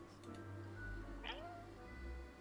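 A cat meows once in the video game Death and Taxes, a short rising then falling call over steady low background game music and hum, fairly faint.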